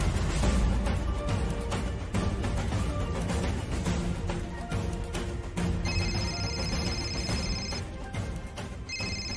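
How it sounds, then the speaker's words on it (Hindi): A telephone rings repeatedly over a loud, busy background of noise and music, the bright electronic trill cutting through in bursts. "तो गुलटूस का फोन भैया। अरे उठा उठा बात करो।"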